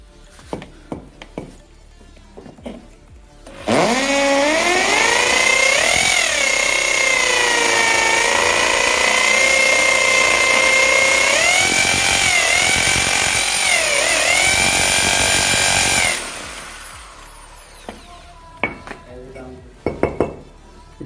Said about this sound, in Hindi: अब हम जो ड्रिलिंग करने जा रहे हैं वो हम कंक्रीट में करने जा रहे हैं, माने कि हम ईंटें में करने जा रहे हैं।